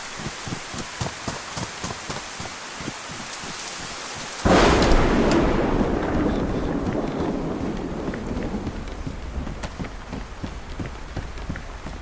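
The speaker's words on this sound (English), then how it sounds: "Oh no, I think it's thunder actually." Thunder in the survival video game DayZ breaks suddenly as a loud, close crack over falling rain, then rolls and fades slowly. Rhythmic footstep-like thuds come before it.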